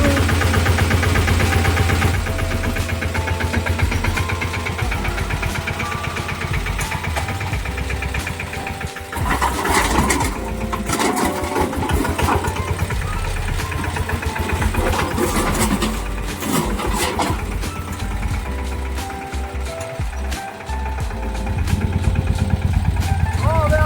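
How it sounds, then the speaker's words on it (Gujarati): A tractor engine cranks and settles into a steady chugging idle, with knocking pulses and some revving, heard close up over about twenty seconds with a little background talk. "આપણે ટ્રેક્ટરનો સેલોપ મારી દેવી અને પછી જવા દેવી"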